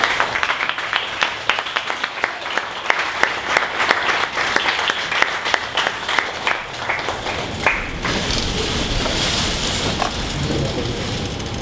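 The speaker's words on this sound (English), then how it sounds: "we'd like for everyone to please give a big warm welcome and applause" A conference audience applauds warmly to welcome the first presenter at a startup pitch event: dense, sustained clapping that swells into a fuller, rushing roar near the end.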